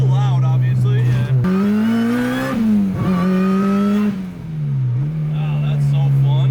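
A Honda Civic EK9 Type R engine pulls hard from inside the cabin, its loud rising drone climbing through the revs, dipping at shifts and climbing again, with people talking over it.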